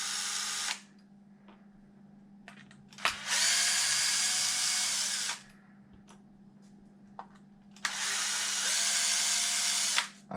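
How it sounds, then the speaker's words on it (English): A power drill or electric screwdriver backs screws out of the top plate bracket on a Tekno MT410 RC truck, running in two long, steady bursts with quiet pauses and small clicks between them, close by and without talk. "Let's take out these top screws first."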